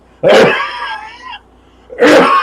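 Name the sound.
cough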